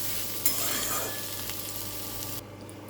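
Fried kudri (ivy gourd) are stirred in a pan, a sharp scrape of the spoon followed by a steady close sizzle that dulls abruptly near the end, with no one talking.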